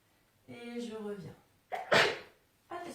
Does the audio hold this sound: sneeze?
yes